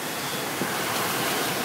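Storm-driven ocean waves and surf at high tide during Blizzard Hercules, a loud, close, unbroken roar of crashing water and wind with no voices.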